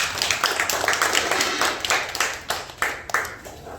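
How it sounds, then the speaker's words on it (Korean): Clapping from a congregation at a Sunday worship service in a church, a dense crackle of many hands that keeps a fairly steady level over a few seconds. "박수하겠습니다."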